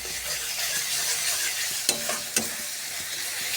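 Ground spice paste frying in a pan for a potato curry (aloo dum), a steady broadband sizzle with a few soft stirring scrapes partway through, close and even, with no talking.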